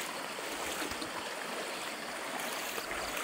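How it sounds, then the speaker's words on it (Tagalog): River water rushes strongly over a stone-built crossing in Mansalay, Oriental Mindoro, a loud, close, continuous churning roar with no voices. "Ang lakas ng lagaslas, no?"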